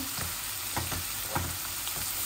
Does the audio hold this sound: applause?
no